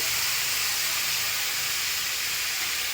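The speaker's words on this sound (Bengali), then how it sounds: "এই তেলটা আমি দিয়ে দিলাম কড়াইতে।" Steady loud hissing sizzle of cooking oil in a hot wok, continuous throughout with no voices.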